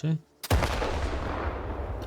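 A single heavy blast from an RPG-7U rocket launcher in the video game STALKER 2 goes off after a brief pause, with a loud boom that rolls into a long, rumbling decay.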